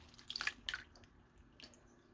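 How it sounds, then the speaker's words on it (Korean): Broccoli is lifted out of a soak of coffee-grounds water and kudzu tea, giving a few quick drips and wet splashes in the first second, then a quieter trickle near the end. "30분 이상 커피 찌꺼기 물과 칡차물에 담가두었던 브로콜리를 꺼내 볼게요."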